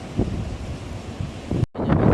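Gusty sea wind on an island shore under a cloudy sky buffets close to the microphone, a steady rushing roar with a brief dropout near the end.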